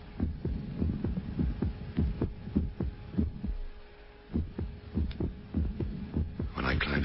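A heartbeat sound effect from a radio drama thuds in a steady lub-dub rhythm with one noticeable gap, close and resonant over a low hum.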